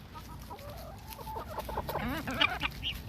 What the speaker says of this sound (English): Watch out, Mr. Rooster.